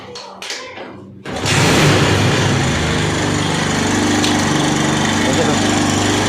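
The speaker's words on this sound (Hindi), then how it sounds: "तो दोस्तों आपको बाइक स्टार्ट करके और इसकी आवाज़ सुनाता हूँ।" After a few clicks, a TVS motorcycle engine starts and settles into a loud, steady idle with a persistent metallic rattling clatter from a worn timing chain.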